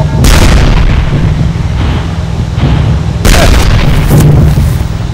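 Heavy tank cannon blasts boom in Gettysburg Armored Warfare, two loud close shots each followed by a rumbling decay, over a constant low engine hum.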